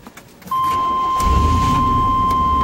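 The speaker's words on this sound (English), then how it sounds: "So, go ahead and start the vehicle again." A car engine starts and settles into a steady idle, with a constant high electrical whine running over it, close and fairly loud with no talk.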